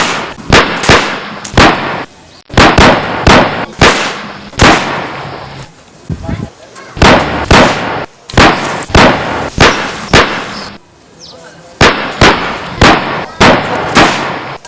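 Repeated loud gunshots in rapid bursts, sharp cracks fired in clusters with brief gaps between volleys, close and dominant throughout.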